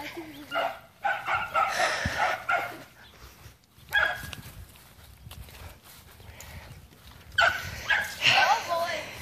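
Guard dogs kept in a backyard bark repeatedly in loud bursts at the start and again near the end, with people talking and moving close by in between.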